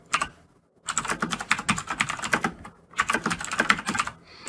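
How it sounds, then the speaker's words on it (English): Bursts of rapid typing on a computer keyboard while entering code, close and clear, with a short pause near the start and another around three seconds before the clatter resumes. "we're just going to start typing in the values of the elements that should be stored inside of our array"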